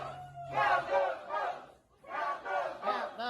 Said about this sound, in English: They're shouting about the Sharpie social media misinformation.